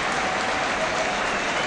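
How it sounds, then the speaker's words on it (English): Football crowd applauding the referee and linesmen, a dense, even roar of clapping from many hands filling the whole brief moment without break. "The applause coming to them from the crowd."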